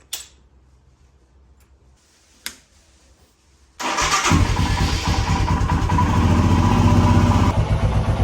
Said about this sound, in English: so just let the bike warm up a little bit.